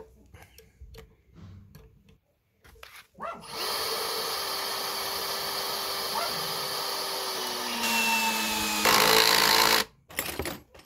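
An Einhell TE-CD Li BL cordless drill set to its top clutch stage drives a screw into wood. The motor whirs loudly for about six seconds, then climbs in pitch briefly before cutting off, with scattered quieter handling noises before and after.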